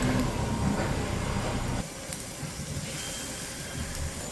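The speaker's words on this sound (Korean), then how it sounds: "팬을 달군 후 식용유를 약간 넣고 반죽에 적신 고구마를 하나씩 넣고 부치기" Battered sweet potato slices fry in a little oil in a hot pan, making a continuous sizzling hiss that drops slightly in loudness partway through and then holds steady.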